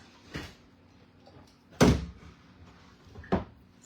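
A museum specimen drawer full of preserved bees slides out of its cabinet in a bee lab, giving three separate wooden thunks and scrapes, the middle one loudest and nearby, with quiet room tone between.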